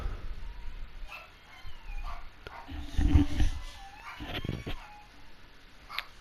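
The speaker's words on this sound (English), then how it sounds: "The dog is sad." A dog whimpers and yips in short, uneven bursts at close range over faint background noise, with a low thump in the middle.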